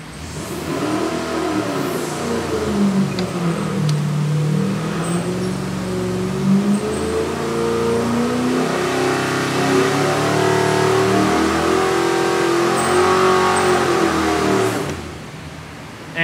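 Engine on a dynamometer revs hard through a sustained pull, its pitch climbing steadily and staying loud and close for about fifteen seconds before cutting off.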